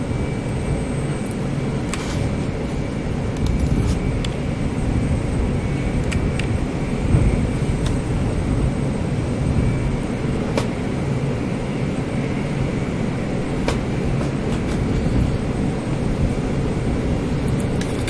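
Aircraft engines in Microsoft Flight Simulator 2020 droning steadily as the plane taxis onto the runway, a constant loud low roar with a faint high whine and occasional brief clicks.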